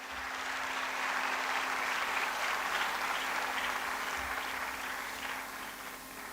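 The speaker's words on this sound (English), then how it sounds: "Huge round of applause, please." A large audience applauds steadily at a university youth consultation event during a memento presentation to a chief guest, a broad sustained clapping that holds evenly for several seconds with no one talking.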